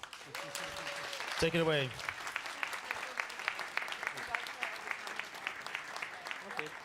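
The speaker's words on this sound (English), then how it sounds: "a round of applause" An audience at a Berlin game festival talk bursts into applause that carries on as dense, steady clapping, with a short spoken phrase and a brief rising tone near the start.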